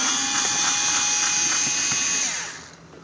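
Power drill with a Torx 20 bit backing screws out of a Dodge Journey armrest lid: a close, whining motor buzz running steadily for over two seconds, then spinning down and stopping.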